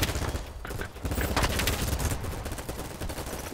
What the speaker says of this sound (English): MP7 should not be able to shoot at this range